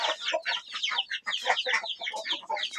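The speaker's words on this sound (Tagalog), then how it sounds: "Oh, ganda naman itong manok na to." Chickens clucking and squawking close by in a rapid, continuous jumble of calls, with no talking.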